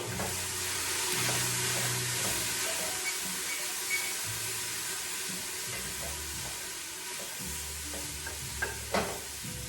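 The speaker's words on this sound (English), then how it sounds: "I let that saute up a little bit" Carrots and other vegetables sauté in a pot as the base for minestrone soup, with a continuous close sizzle and repeated utensil stirring taps over about ten seconds.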